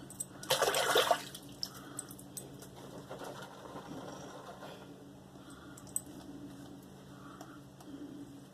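A short burst of running water rinses shaving soap lather off a brush handle, loud and close for about a second, followed by quieter faint clicks and handling sounds.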